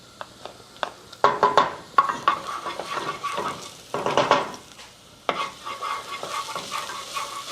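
Crushed garlic fries with softened onions in a pan, a steady close sizzle broken by repeated scraping stirs and light utensil clinks against the pan.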